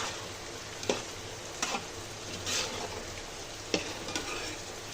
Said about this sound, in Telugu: దీన్ని కలుపుకుందాము. ఈ మసాలా అంతా చికెన్కి పట్టేలాగా.